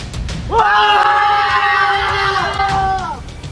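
A crowd in a Philippine revolutionary reenactment, tearing up their cedulas, lets out one long, loud collective shout in unison, sustained for nearly three seconds before trailing off over background murmur.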